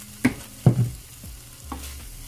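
Pepper and split peas frying in olive oil in a pan, a low sizzle broken by a few thumps and scrapes of stirring, with quiet gaps between them.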